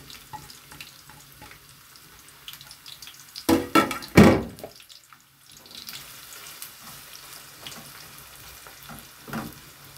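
Onion dropped into hot oil in a pan for Egyptian koshari, a loud burst of sizzling and splashing around the middle, then a softer steady frying hiss that continues to the end.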